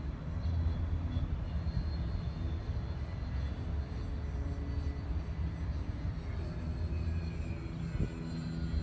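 Steady, loud jet engine roar of an A-10 aircraft during takeoff in a flight video game, a continuous low rumble without speech.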